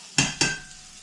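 Steak, onions and peppers hitting a hot pan: two sharp, loud sizzling bursts in quick succession, each fading into a steady, bright frying hiss close by.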